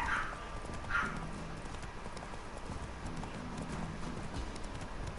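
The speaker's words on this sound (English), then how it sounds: "There's the horse. Come on, horse." Horse hooves clip-clop in a steady, even trotting rhythm in The Witcher 3 video game, moderately close, over a soft outdoor ambience.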